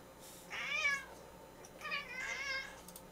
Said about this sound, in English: Oh, whiny cats.